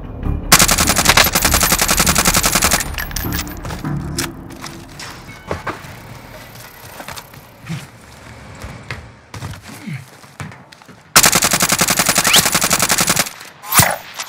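Automatic gunfire in Call of Duty Warzone on Rebirth Island, with loud sustained machine-gun bursts at the start and again near the end, and scattered shots, impacts and game effects between them.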